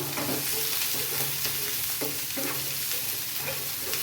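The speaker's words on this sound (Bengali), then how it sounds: "পেঁয়াজটা একটু ভেজে নিই," Chopped onions sizzling in hot oil in a pan, a steady close crackle with regular spatula scrapes and taps as they are stirred, no voices.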